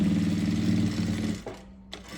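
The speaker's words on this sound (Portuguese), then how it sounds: "Bota aqui na máquina, pezinho de máquina, ó. E passa uma costura aqui," Sewing machine stitching a bag lining, a loud close steady whirring run that stops after about a second and a half, followed by a faint click.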